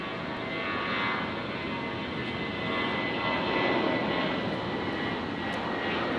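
A Singapore Airlines Airbus A350 taxis at Brisbane International Airport at night, a steady loud engine roar and whine held throughout, fairly close, with no talk.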